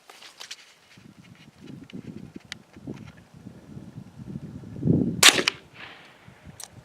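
A Remington firearm fires a single sharp, loud report during outdoor ballistic testing, preceded by soft shuffling and rustling.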